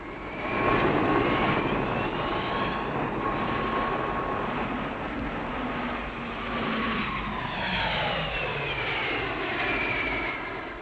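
A jet aircraft flying precision aerobatics at an air show roars past overhead, its engine whine sweeping and shifting in pitch as it approaches and recedes, loud and sustained.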